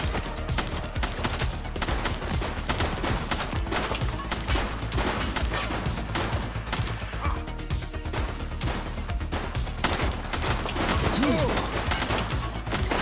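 Video game gunfire, a sustained, loud volley of rapid shots and crashing impacts filling the whole stretch, with a brief vocal cry near the end.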